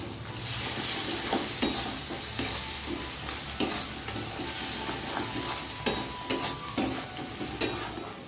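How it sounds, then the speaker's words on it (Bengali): Kashmiri chilli, turmeric and hot chilli powders fry in oil for Bengali mutton kosha, giving a steady close sizzle with repeated scraping stirs of a spoon against the pan. "মশলাটা ভালো করে কষিয়ে নেব।"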